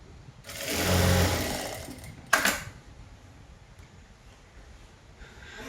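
A sewing machine stitches a half-inch folded hem on a straight cigarette-bottom pant, running in one steady mechanical burst of about two seconds, then a sharp clunk followed by quiet with no voices.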